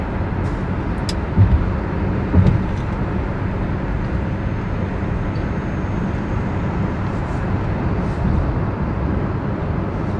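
Steady road and tire rumble from inside a Hyundai Ioniq 5 electric SUV driving along a highway during a lane change, a constant loud cabin drone with a couple of faint low thumps and no engine note.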